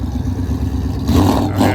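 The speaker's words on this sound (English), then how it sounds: "Got this Mustang going and getting ready for the rev battle." Mustang 5-liter V8 engine idling with a rough rumble, then briefly revving louder twice at a car meet rev battle, close by and without talk.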